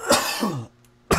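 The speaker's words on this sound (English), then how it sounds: "I apologize for the coughing" Two harsh, close coughs with a rough throaty quality, separated by a brief quiet pause.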